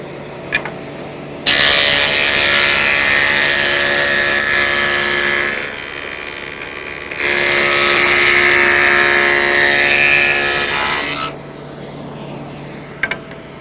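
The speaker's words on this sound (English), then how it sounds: "let's go ahead and make this rabbet cut" A table saw cuts a rabbet 3/8 inch deep into wood for a picture frame: two loud sustained passes of whining blade and motor roar, each several seconds long, with a short dip between them and quiet gaps before and after.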